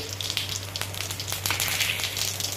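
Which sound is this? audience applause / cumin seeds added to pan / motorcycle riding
cumin seeds added to pan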